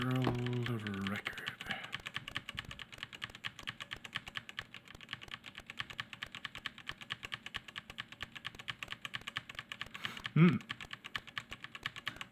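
Fast typing on a computer keyboard, a steady run of crisp clicks that continues after a short opening burst of tonal game sound, with a brief louder blip near the end.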